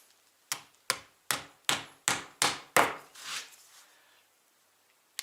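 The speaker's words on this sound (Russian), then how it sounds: "Дюпель на 10 вот такого плана заколачиваем." A dowel is hammered into an aerated concrete block with six sharp, evenly spaced blows, close and distinct, followed by a softer scraping sound and then quiet, with one small tap at the end.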